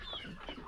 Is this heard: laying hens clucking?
yes